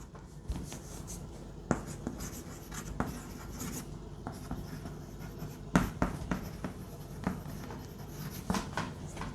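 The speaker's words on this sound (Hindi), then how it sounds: "तो मैं अब डायरेक्ट लिखता हूं" Pen or marker writing on a board during a physics lecture on electrostatics, a close scratchy series of irregular strokes and taps, fairly quiet with no voices.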